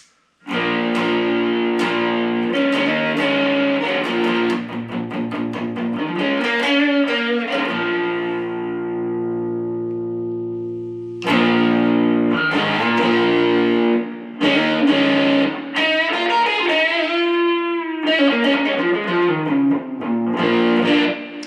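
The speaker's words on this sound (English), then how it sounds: "This is the DOD Gunslinger. It's more of a distortion pedal." Heavily distorted electric guitar through a DOD Gunslinger distortion pedal into a Yamaha THR5 amp, playing chords and sustained notes, loud and saturated, with a brief ringing pause midway before more riffing.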